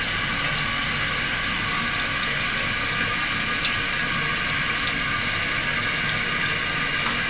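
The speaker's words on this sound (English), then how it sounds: "So the tank is filling up" A toilet tank refills with water through an open refill valve on a running toilet, making a constant, fairly loud rushing hiss that continues unchanged throughout with no voices.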